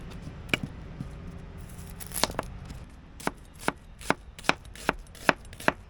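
A knife chops half an onion on a board, starting with a few scattered cuts and then settling into a steady run of sharp, close taps about two per second.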